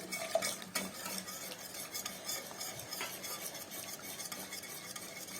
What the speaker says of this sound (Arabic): بحب بقى احط على البشاميل بتاعي مرقه، انزل كده بالمرقه، ايد بتنزل وايد بتقلب